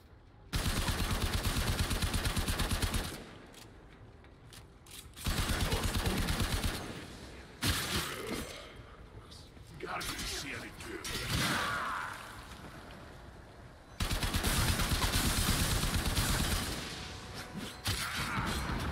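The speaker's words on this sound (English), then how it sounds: "Explosions." Heavy, sustained automatic gunfire in the Warframe video game, with long loud bursts broken by brief quieter gaps, whooshes and thuds of explosions, dense and close throughout.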